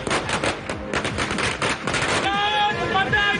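Firecrackers bursting in rapid, dense strings at a political party's election victory celebration, loud crackling volleys continuing throughout, with crowd noise and cheering underneath.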